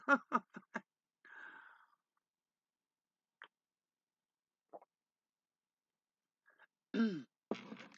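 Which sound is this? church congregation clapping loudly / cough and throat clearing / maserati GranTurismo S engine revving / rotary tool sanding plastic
cough and throat clearing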